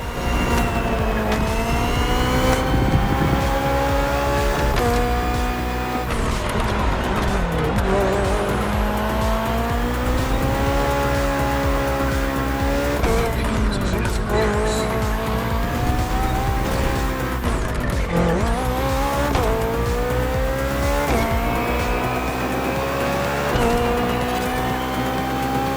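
Hybrid V8 race car in The Crew Motorfest racing game: a loud, continuous engine roar rising and falling through gear changes, with tire squeals and skids as the car accelerates and corners.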